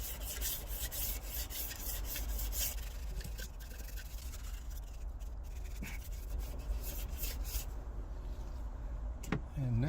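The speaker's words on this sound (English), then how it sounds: "gonna use a short sanding block. Just get all the rough edges." A short sanding block rubbed by hand over a Toyota Previa cylinder head surface to knock down rough edges, giving steady continuous rasping strokes close up, with a brief sharp knock near the end.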